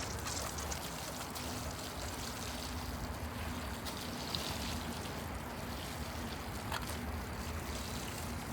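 Fruit trees being watered in a garden, a steady, unbroken rush of running water that stays even and moderately loud throughout, with no voices.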